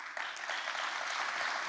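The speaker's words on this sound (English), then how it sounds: "we should sure applaud for that" A conference keynote audience applauds, a short burst of steady clapping from a crowd heard at moderate distance, even and sustained without any voices.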